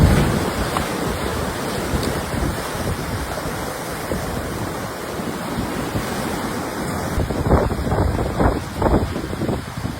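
Violent ocean waves surge against a row of oceanfront homes in Buxton, a loud, continuous roar of surf under heavy wind buffeting the microphone, swelling louder near the end.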